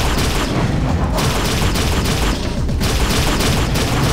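Bio rifle fire in the first-person shooter Unreal bursts in loud, dense volleys, repeated blasts and booms layered almost continuously with brief dips between salvos.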